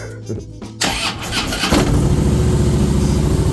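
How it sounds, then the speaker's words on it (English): A 2013 Harley-Davidson FLSTF Fat Boy engine cranks briefly, catches and settles into a loud, steady, lumpy idle up close, with no talk over it. "we're going to start this gorgeous machine up and hear the motor"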